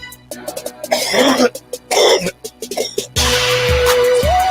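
Someone coughs and clears their throat repeatedly in harsh, uneven bursts, close and loud, followed by a steadier noisy stretch.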